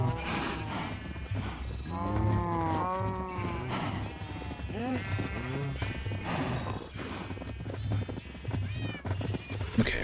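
Donkeys in the game Minecraft braying repeatedly with drawn-out, wavering hee-haw calls, several overlapping cries close by, with soft hoof-like clops and faint background sounds.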